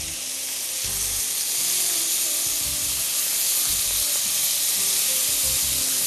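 Chicken breast fillet sizzles steadily in a hot pan, a dense broadband frying hiss with low bubbling crackle that holds loud and even with no talking.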